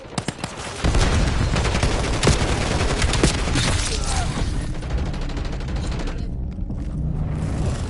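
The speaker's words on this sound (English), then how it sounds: "Hostile grenade incoming." Call of Duty combat: a heavy blast after a few opening pops, then dense, loud rattling gunfire and booming that keeps going through the whole stretch with no one talking.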